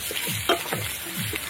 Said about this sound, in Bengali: এবার আলুগুলোকে একটু ভেজে নিতে হবে ভালো করে।